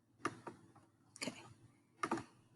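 Three separate bursts of clicky button presses on a calculator, quiet, with short gaps between them and no talking.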